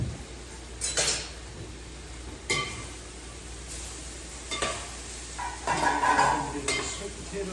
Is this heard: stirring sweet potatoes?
yes